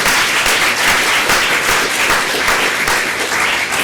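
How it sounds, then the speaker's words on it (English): Conference audience breaking into sustained applause, dense steady clapping filling the room at full volume throughout with no talk over it. "So I'm going to ask for a first round of applause for Christian"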